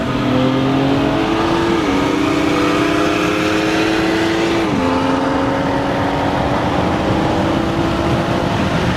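A BMW M3 and a BMW 340 with a B58 engine race side by side, engines droning loud and steady with rising tones that dip at gear shifts, the roar continuous throughout.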